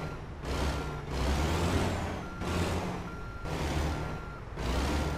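A heavy truck reversing and manoeuvring in American Truck Simulator, with engine rumble that rises and falls in long surges, bursts of air-brake hiss and a repeating reversing beep, close and loud with no voices.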